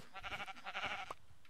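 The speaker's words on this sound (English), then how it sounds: "look at that. Brown sheep." A brown sheep bleating in the block-building game Minecraft, one wavering, fairly quiet bleat with no talk.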